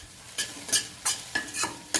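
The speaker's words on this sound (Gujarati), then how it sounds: "વઘાર મૂકી દીધો છે, થઈ જાય પછી આપણે રોટલી નાખી દઈશું" Leftover roti is being stirred in hot tempering in a pan, with a spoon scraping at a steady rhythm, about six quick strokes over light sizzling, close and fairly soft.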